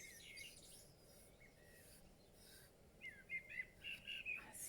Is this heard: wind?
no